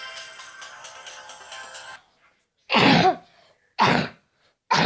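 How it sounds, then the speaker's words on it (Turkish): Three loud, harsh coughs close to the microphone, spaced apart with short silences, following a few seconds of steady electronic background sound. "öksürdüğüm için özür dilerim"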